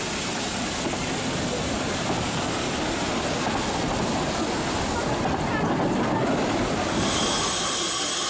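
Steam train pulling into Entrevaux station in the Alpes de Haute-Provence on the Puget-Théniers to Annot line, a steady loud rolling rumble and hiss that continues throughout, with a narrator speaking over it.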